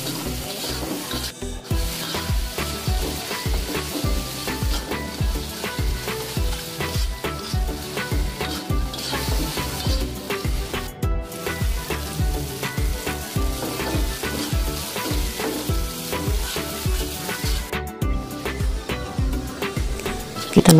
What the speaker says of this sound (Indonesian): Kita masukkan serai, daun salam. Kita tumis